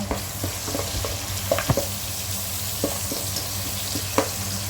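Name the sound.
onions lightly frying in oil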